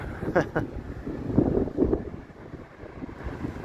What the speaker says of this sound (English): It is pretty windy out here.